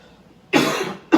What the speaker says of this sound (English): I've had a nervous cough for, I don't know, a decade or more.